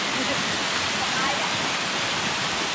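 Pikong Falls, a tall waterfall where water pours over solid rock, roars as a steady, loud, close wash of broadband noise with no breaks.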